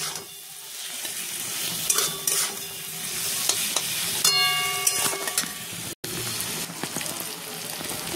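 Close, steady sizzle of small fish frying in hot oil, broken by clinks and scrapes of a utensil against the pan.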